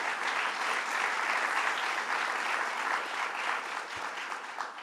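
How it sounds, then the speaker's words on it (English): An audience at Hostos in the Bronx claps steadily, a dense, even round of applause from a crowd that holds level and then eases slightly at the end, with no voices over it. "let's give our host at Hostos a round of applause."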